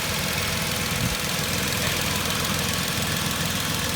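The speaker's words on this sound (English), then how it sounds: "Now the engine's lovely and quiet." A car engine idles steadily nearby, a smooth continuous rumble with a faint even rhythm and no talking.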